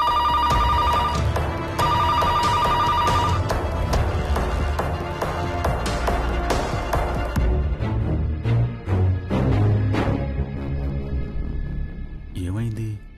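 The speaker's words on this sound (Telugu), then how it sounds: "ఇక్కడ మాట్లాడుతుంటే మధ్యలో ఫోన్ కాల్ ఏంటయ్యా?" A telephone bell rings repeatedly in a Telugu TV serial scene, bright patterned trills under background music, loud and near, with voices talking over it before a closing sweep.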